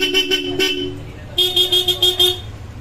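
A customer's vehicle horn, fitted with a selector and recently rewired, sounds loud and close in two bursts of rapid, stuttering toots, with a pause between them.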